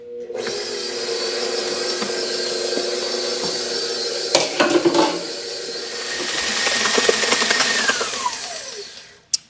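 Stand mixer with its paddle beating cream cheese icing for a gluten-free raspberry layer cake, a close motor whir that builds from low to high speed with a few clattering knocks midway, then winds down.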